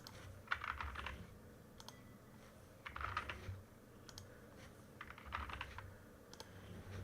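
Bursts of computer keyboard typing in three quick clusters, clicky keystrokes at a moderate distance over a low background hum, with no talking.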